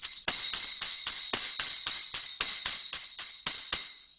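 Tambourine struck with one hand in a steady rhythm, about a dozen bright jingle hits with short decays, close and alone with no voices.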